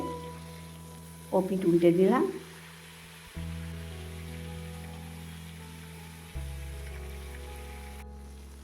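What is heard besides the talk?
fish frying and sizzling in hot oil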